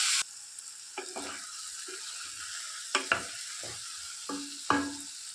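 Ivy gourd pieces frying with tempering spices of coriander seeds, cumin, garlic and dried red chillies, stirred in a pan: continuous sizzle broken by several sharp scraping strokes of a spatula at uneven intervals, no talk.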